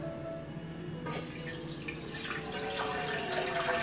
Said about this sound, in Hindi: पहले आप इसमें पानी डालिए।